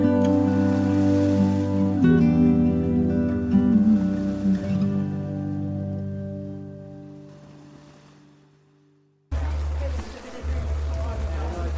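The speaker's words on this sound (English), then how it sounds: "the now torrential rain that's coming down on the marquee that we're standing in" Torrential rain drums on a marquee as a loud, steady hiss that takes over abruptly once background music fades out, with voices nearby.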